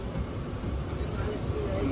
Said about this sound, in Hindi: लोकल लोकल लोकल ट्रेन में फर्स्ट टाइम